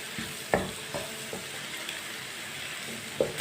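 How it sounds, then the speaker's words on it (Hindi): Eggs stirred and frying in a pan, with a soft, steady sizzle and a few scraping clinks of the spoon against the pan at intervals, close and fairly quiet. "अंडों को भी 2 मिनट के लिए ना पका लेंगे अच्छी तरह मिक्स करके।"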